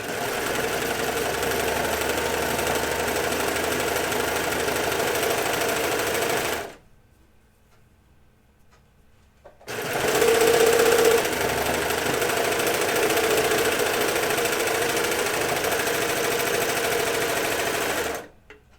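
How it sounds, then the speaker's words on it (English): A serger overlock sewing machine stitches a curved edge on fabric for pants, a loud steady whirring hum that runs for several seconds, stops briefly, then resumes just as steadily. "I'm going to just serge this curved edge here."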